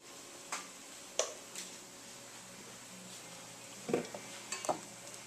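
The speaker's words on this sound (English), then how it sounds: "I melted a tablespoon of butter, and I'm just going to saute these mushrooms" Mushrooms sauteing in a tablespoon of melted butter, a faint low sizzle under scattered sharp ticks and clinks of a utensil against the pan, with a cluster of louder stirring clicks near the end.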